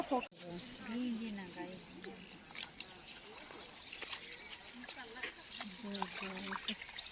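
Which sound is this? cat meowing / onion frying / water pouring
water pouring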